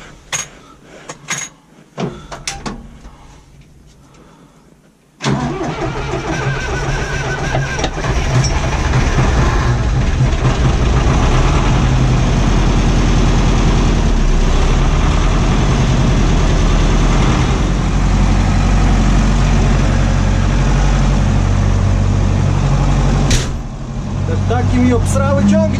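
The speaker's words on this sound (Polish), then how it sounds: "odpalić sprzęcior, niepalony już sporo czasu." A tractor left unused for about a week is cranked over and fires, its engine catching after a few seconds of short bursts and then idling loudly and steadily before the pitch dips near the end.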